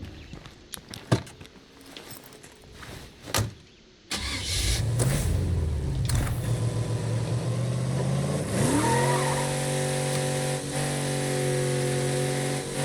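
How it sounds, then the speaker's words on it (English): Car driving in the video game State of Decay 2, a loud steady engine drone that starts abruptly after a few faint taps and thuds, with the pitch rising and settling as it accelerates. "This car is so much louder."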